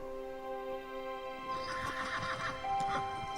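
Horses pulling a king's carriage neigh and whinny over steady hoof clip-clop, the calls rising loud in the second half against a sustained tonal background.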